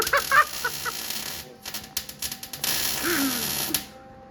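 Welding of exhaust cut-outs onto a C10 truck: a crackling, buzzing arc that runs in bursts, halting and restarting several times at close range, with no talk.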